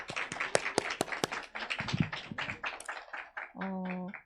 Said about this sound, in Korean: 그리고 성찬 및 레슨을 나눠준 두 분께 박수를 먼저 드리겠습니다